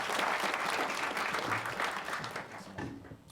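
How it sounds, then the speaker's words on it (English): Audience applause for panelists at an evening panel event, a dense crowd of hands clapping fairly close, strong at first and then gradually thinning out over a few seconds. "Let's give these guys a round of applause for being here tonight."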